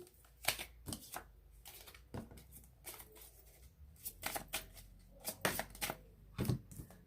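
Love oracle cards are shuffled by hand, giving repeated crisp riffling and slapping bursts in an irregular rhythm, close and fairly clear, with no talking.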